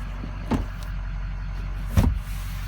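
The rear passenger-door power window of a 2005 Ford F250 King Ranch runs with a soft motor whir, framed by two short clunks as it starts and stops, heard close inside the cab with no talk.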